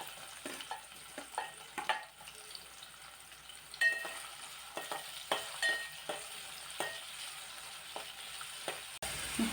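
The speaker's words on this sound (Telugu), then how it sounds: "దోసకాయ ముక్కలు వేయించుకోవాలి." Small cucumber pieces fry in a pan for coconut chutney, giving a faint, quiet sizzle broken by irregular scraping and stirring taps, with the loudest clatter at the end.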